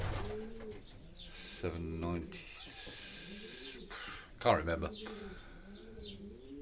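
A racing pigeon coos in a loft in soft, repeated rolling calls, with close breathy notes and someone speaking briefly over them.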